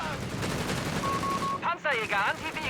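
Gunfire and rocket shots ring out in a Company of Heroes 3 battle between Afrika Korps and US forces, a dense busy crackle of shots with sharp chirping bursts near the end.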